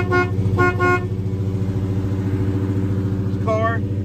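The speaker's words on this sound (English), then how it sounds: "Horn works." A 1967 Chevrolet Chevelle's horn honks in short bursts, two quick toots then a pause and another blast, over a steady idling engine rumble.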